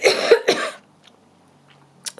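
A person with a lingering cold coughs twice in quick succession, close and fairly loud, followed by near silence.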